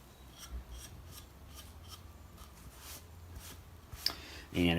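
A cloth rubbing over a fresh wood finish makes soft, repeated swishing strokes, faint and close, ending with a louder rustle.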